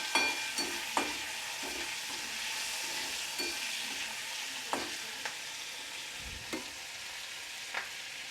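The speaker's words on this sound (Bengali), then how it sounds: "দিয়ে দিচ্ছি হাফ চামচ চা চামচের কালো জিরে। এটা কয়েক সেকেন্ড আমি নেড়ে নেব" Half a teaspoon of black cumin (nigella) seeds sizzling on low heat in a pan for a Bengali bottle gourd and prawn dish, with a steady soft crackle and occasional sharp scrapes and taps of a spoon stirring.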